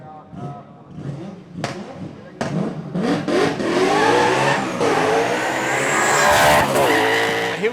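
Drift car engines roar and rev at a D1NZ drift series round at Mt Smart Stadium, loud and continuous with tire squeal, under excited race commentary.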